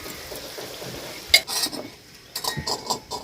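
Chicken curry with salt and coriander powder is stirred in a pan, with a spoon scraping and clinking against the metal in short bursts over a low background sizzle.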